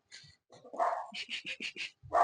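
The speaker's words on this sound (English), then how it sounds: "my dog's gone crazy" A dog barks sharply in a quick run of about five yips, with whimpering and whiny noises before and after, close by and fairly loud in an indoor room.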